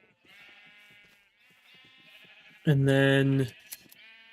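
A sheep bleats in Minecraft, one loud, nasal, wavering bleat rising over quieter game sounds and a speaking voice.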